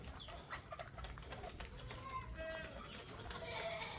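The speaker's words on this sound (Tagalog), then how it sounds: "May sisiyo oh, nakakawawa." Young chicks peep in thin, high chirps scattered over a rainy-day outdoor background with soft rustle and distant animal calls, the calls faint and intermittent.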